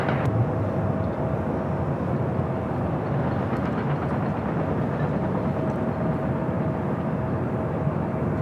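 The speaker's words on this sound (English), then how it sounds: "Arrival is Alaska Horizon Flight 2089 coming from Eugene." Alaska Horizon airliner arriving as Flight 2089 from Eugene, a steady broad jet roar that holds evenly throughout, moderately loud and continuous with a faint whine riding on top.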